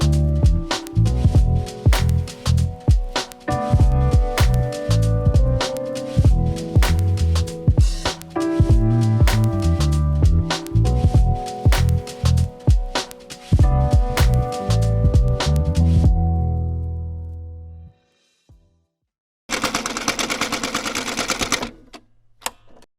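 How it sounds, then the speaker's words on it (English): A sewing machine stitches columns of patchwork fabric in rapid mechanical bursts with short pauses between runs, loud and close; it stops, falls silent briefly, then a short final burst of noise follows. "it's back to sewing, this time the columns"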